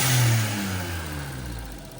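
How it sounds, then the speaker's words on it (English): A Suzuki Alto Works engine revs up close, loud at first, then eases off with a steady harmonic drone that settles and fades slightly toward idle, with no voices. "Give it some revs."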